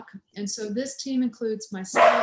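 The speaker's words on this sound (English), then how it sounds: "that's my dog" A pet dog barks and yips several times in short bursts close to the microphone, overlapping with someone talking in an online community meeting.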